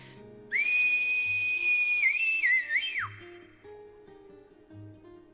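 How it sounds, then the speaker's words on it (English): A loud, sustained high whistle in the video game Reverse 1999, commanding a sled dog team, holds a steady pitch for a few seconds, then wavers and drops off sharply, over faint background hiss. "I wish it wasn't such a pain to learn how to whistle loudly like that."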